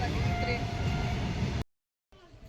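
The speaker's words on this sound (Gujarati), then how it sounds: "આપણી ટ્રેન આવી ગઈ છે" A train pulling into a railway station with a loud rumbling roar and a high tonal ring, cut off abruptly by a brief silence, then returning quieter.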